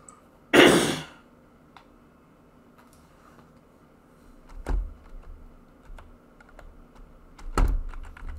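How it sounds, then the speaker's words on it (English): Sparse keystrokes tap on a computer keyboard at a quiet desk, with a loud rustle or thump near the start and a few heavier knocks later, no voices. "I'm just typing up something"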